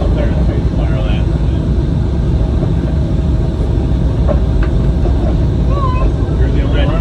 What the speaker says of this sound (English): we're traveling aboard our only monorail today, Monorail Red, on a one-way trip to Tomorrowland